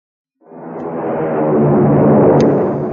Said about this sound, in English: It's the sound of a mighty American Airlines flagship taking off.